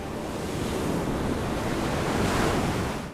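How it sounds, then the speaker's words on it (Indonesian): Ocean surf at a beach at sunset roars steadily with strong wind buffeting the microphone, a loud, dense wash of breaking waves that swells slightly before fading at the end. "menenangkan diri sambil menikmati sunset di pantai"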